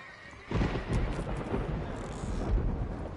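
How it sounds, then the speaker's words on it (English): Thunder rolling in the Red Dead Redemption video game, a sudden loud rumbling crack that swells and sustains as a broad, noisy roar with no voices over it. "It's thunder."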